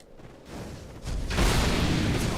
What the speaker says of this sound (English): It makes that kaboom sound every time you swing it at somebody.